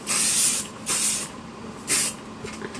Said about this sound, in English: I'm now going to spray some hairspray on it.